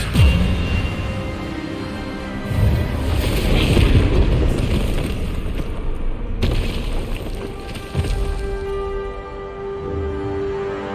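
Hogwarts Legacy spell duel as Expelliarmus is cast, with deep booming blasts and rushing, wind-like magical roars swelling and fading repeatedly, loud and layered over a continuous rumbling game soundscape.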